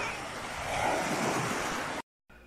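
Ocean surf at a white sand beach at Punta Almara, a broad continuous wash of waves with wind buffeting the microphone, cutting off abruptly near the end.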